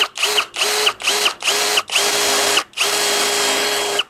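A DongCheng DCJZ2040i cordless impact drill with a 10 mm bit whines loudly in short repeated bursts, then runs longer at speed 2, biting into 5 mm steel plate with a grinding, steady mechanical drone, close by.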